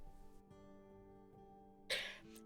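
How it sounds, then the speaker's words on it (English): A single loud, sharp sneeze bursts out near the end, heard from another room in the video game Stray Gods over a sustained musical score. "There was a very loud sneeze from the other room."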